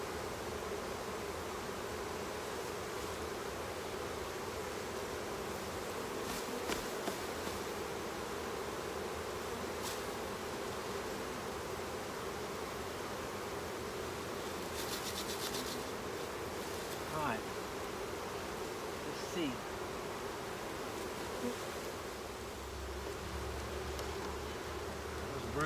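A large captured honey bee swarm hums steadily outdoors, bees fanning at the hive entrance, a dense continuous buzz running the whole time with a few brief knocks and faint handling sounds.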